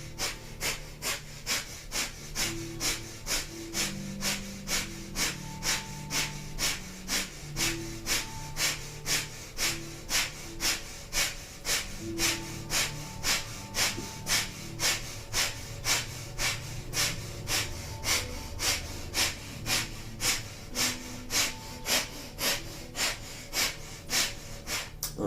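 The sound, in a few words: breath of fire, rapid panting breath through the nose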